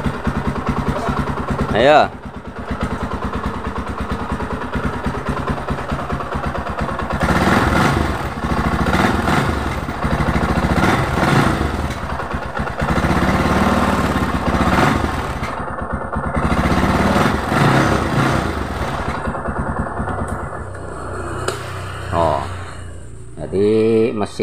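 A Suzuki Scorpio Z motorcycle engine runs with its fuel tank removed, a steady mid-pitched idle chugging continuously up close while someone talks over it.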